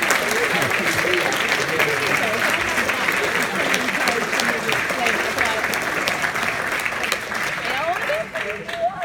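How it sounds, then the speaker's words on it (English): An audience applauds for a woman named Leah at a show, a sustained, steady wash of clapping that holds strong for most of the span before thinning slightly near the end. "let's all give Leah a nice round of applause."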